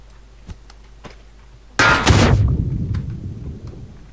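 A single loud gunshot in PUBG bursts out and rings into a rumbling echo, with faint clicks before it and no talking.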